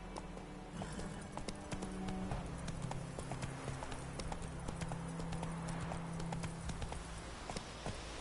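Roach, a horse in the Witcher 3 video game, gallops with a steady, rapid clip-clop of hooves over a continuous low rumble of game ambience.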